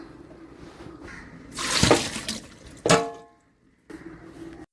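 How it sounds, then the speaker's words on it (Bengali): Water runs and splashes off freshly washed leaves in a kitchen, draining in a few short, close bursts that splatter and trickle before falling quiet. "এবার এটাকে জল ঝরাবো।"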